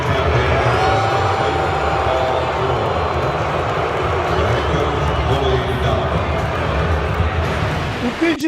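Basketball arena crowd booing Paul George, a loud, sustained roar of many voices filling the whole stretch without a break, with a dense broadband wash of sound.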